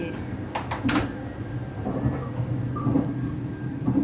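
A sliding compartment door opening aboard an overnight sleeper train in Thailand, with a quick cluster of clacks and rattles near the start, then steady rumbling carriage noise and faint background sounds.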